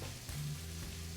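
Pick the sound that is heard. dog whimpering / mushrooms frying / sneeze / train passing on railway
mushrooms frying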